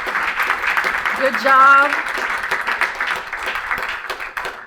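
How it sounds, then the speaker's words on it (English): A seated audience at an annual meeting of a CCIM real-estate chapter gives a big round of applause, a steady wash of clapping that runs the whole time while one voice briefly speaks over it. "Let's give these individuals a big round of applause"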